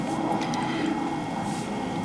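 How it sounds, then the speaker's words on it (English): Water pours and gurgles from the open drain of an Atwood RV water heater tank, a steady, close, continuous splashing stream with no talking. "when you remove that, the water is going to start pouring out"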